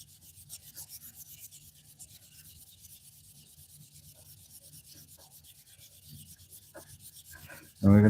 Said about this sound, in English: we're going to burnish this thing.